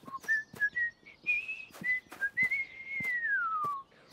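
A cartoon character whistles through pursed lips with no juice box, giving a series of short chirpy notes that rise and fall, then one long sliding tone that glides downward, close and clear against a quiet background.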